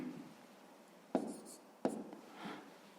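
Two quick, faint pen strokes on paper during long-division work, spaced under a second apart with a soft scratchy trail after, close but quiet, no voices.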